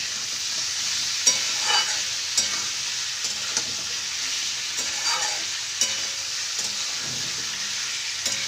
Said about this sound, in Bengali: আমি চিকেন আর পেঁয়াজটা একসাথেই ভেজে নিচ্ছি